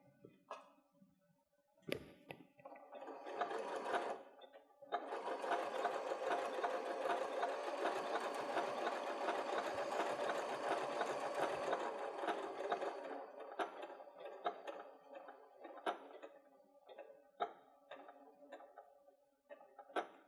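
Sewing machine stitching a zigzag to attach a fabric pumpkin applique on an autumn fabric bucket, running in a steady, close rapid whir for several seconds and then stopping into brief ticks and pauses.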